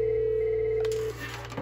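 VoIP desk phone ringing with an incoming call, a steady electronic ring tone sounding close and loud for about a second before cutting off into a brief click of the handset being picked up.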